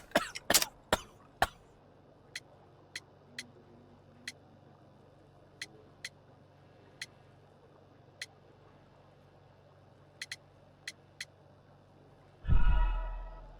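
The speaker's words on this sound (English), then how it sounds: "You have a severe cough." A character coughs in the video game Sherlock Holmes: The Devil's Daughter, with a burst of harsh coughs at the start followed by sparse sharp clicks over a quiet hum and a low rumble at the end.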